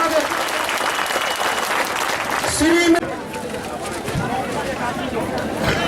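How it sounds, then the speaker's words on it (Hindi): Crowd applause at a political rally in Raniganj carries on as continuous clapping with crowd chatter, briefly overlaid by a brief amplified tone before the clapping thins slightly. "जोरदार तालियों से स्वागत।"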